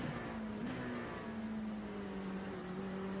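A race car engine in a racing video game hums steadily at a low, held pitch with slight shifts, faint and continuous behind quiet background noise.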